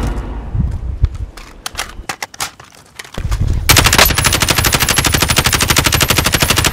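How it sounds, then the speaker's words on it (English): In Call of Duty: Modern Warfare, scattered gunshots give way to a long, sustained burst of rapid machine gun fire, loud and close, with no voices over it. "Taking fire!"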